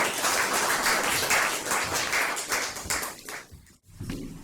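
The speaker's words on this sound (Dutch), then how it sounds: "een warm applaus voor Rosita" Warm applause from an audience at a storytelling-day gathering in IJzendijke greets Rosita van Roeyen, a dense steady clatter of many hands that thins and fades out after about three seconds, leaving brief quiet.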